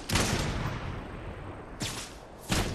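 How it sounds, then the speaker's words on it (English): Sniper rifle fire in Fortnite, three sharp cracks with booming tails, the first loud and close, then two more spaced about a second apart, with no talking. "Got sniped from somewhere to my right."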